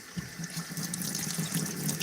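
Running water rinses soaked Mikuni TM28 carburetor parts, a steady splashing faucet stream with a constant hiss and low gurgle throughout, close and alone.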